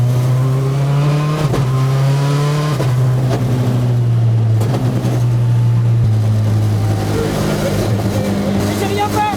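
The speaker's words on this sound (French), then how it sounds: "parce qu'elle est un peu bruyante la voiture" A Citroën Xsara WRC rally car engine revs loudly up close, its pitch stepping up and dropping back in repeated surges with a constant heavy drone underneath, while people talk inside the car.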